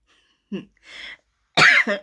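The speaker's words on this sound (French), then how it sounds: "j'ai très envie de tousser" A few short throat-clearing coughs, close up, building to a louder, forceful cough near the end, with quiet pauses between.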